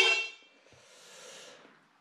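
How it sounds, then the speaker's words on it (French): A horn on a homemade speed bike gives one short, close, loud blast that cuts off quickly, followed by quiet faint rustling. "Donc, j'ai le klaxon qui marche."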